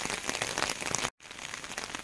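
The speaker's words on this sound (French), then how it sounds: "L'orage de grêle est passé, maintenant c'est un courant de pluie." Steady rain falling just after a hailstorm passes, a dense even patter close by, interrupted by a short silent gap before the downpour continues at the same level.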